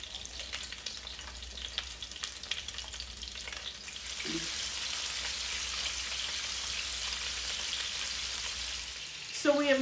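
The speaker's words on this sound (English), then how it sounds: "We sear the salmon for about 5 minutes on each side." Salmon fillets searing in a hot pan, a continuous crackling sizzle that swells louder midway, close and steady, with a brief clatter near the end and no talk.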